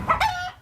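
Rooster crows alongside clucking chickens kept in a backyard or rooftop flock, a short loud close crow rising over brief clucks, no talking.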